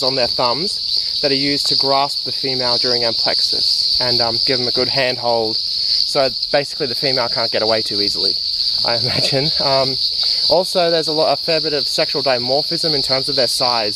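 Litoria fallax tree frogs call in a continuous high-pitched chorus, loud and steady behind someone talking nearby, recorded while frogging at night in Karawatha bushland.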